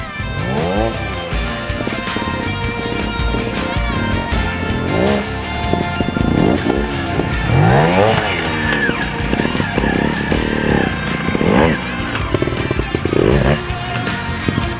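Trial motorcycle engine revving in sharp, repeated bursts as the rider balances and hops the bike forward, loud and close, with tire scrubbing over a steady mechanical drone.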